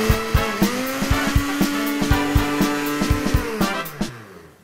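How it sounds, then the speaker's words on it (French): A kitchen blender whirs through a green herb cream of cress and parsley for a snail and mashed potato dish, its motor drone steady and loud with rhythmic pulsing knocks, then winding down near the end. "On la verse dans le blender et on y va."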